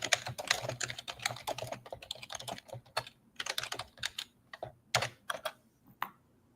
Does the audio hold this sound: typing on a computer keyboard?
yes